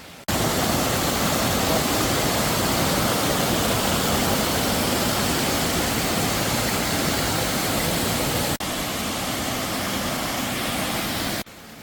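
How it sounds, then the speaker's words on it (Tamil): A loud, constant rushing roar of a waterfall on a rural property in Kodaikanal, broadband and unbroken, with a brief dip near the end. "இந்த ப்ராப்பர்ட்டிக்குள்ளே இருக்க வாட்டர் ஃபால்ஸ் பற்றி சொல்லணுன்னா இந்த சவுண்டை கேளுங்க"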